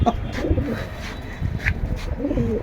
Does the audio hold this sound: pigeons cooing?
yes